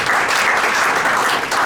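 An audience applauds after a conference talk on sustainability at scale, a short burst of dense, loud clapping from a seated crowd that holds steady throughout.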